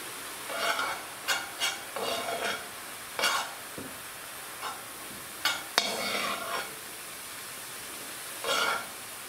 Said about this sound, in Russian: Грибы высыпаем именно на сухую сковороду.